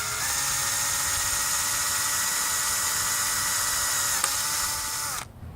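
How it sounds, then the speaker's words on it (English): A drill bores out the top piece of a Starboard 95cm hydrofoil mast during a repair, a steady high-pitched whine running continuously at close range before stopping abruptly. "Drill this top piece out."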